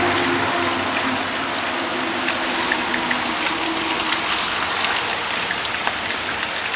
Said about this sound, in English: Rain's starting to come down a little bit better now.